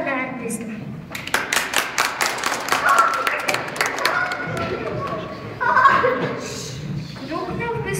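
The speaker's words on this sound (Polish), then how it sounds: "Proszę o brawa dla artysty." An audience at a school's anniversary celebration claps for a performer, a run of fairly close, distinct claps with chatter and a chuckle underneath, and voices talking between the bursts.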